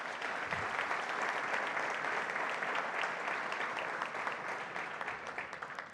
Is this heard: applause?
yes